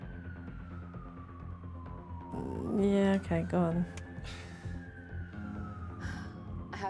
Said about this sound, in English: Well, I can hear police sirens,